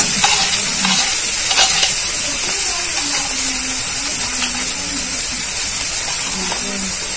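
Ground cashew paste goes into a pan of frying spice masala for egg korma, giving a loud, continuous hissing sizzle with stirring scrapes, while a voice talks softly underneath.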